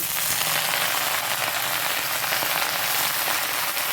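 Potatoes frying with onions in a hot pan give a steady, loud, dense sizzle that runs unbroken throughout, close and with no voices.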